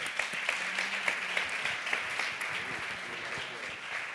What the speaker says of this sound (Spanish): Molt bé, un fort aplaudiment.